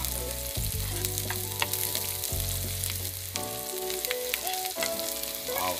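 Sliced pork hits a hot pan for a stir fry with young corn, setting off a loud, steady sizzle and frying crackle that runs throughout, with brief stirring and clattering accents and no talking.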